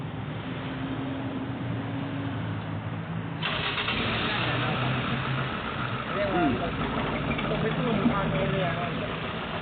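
A Toyota Altis engine cranks and catches, then idles roughly and loud up close, with voices talking over it throughout.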